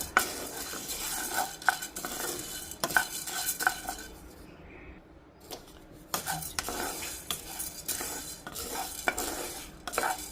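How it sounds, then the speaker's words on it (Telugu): Dal lentils dry-roast in a pan over a low flame, with a faint sizzle under repeated scraping and clinking strokes of a spoon stirring against the pan. "సిమ్లో పెడుతూనే వేయించుకోవాలి సిమ్లోనే వేయించుకోవాలి ఒక్కొక్క పప్పులు విడిగా"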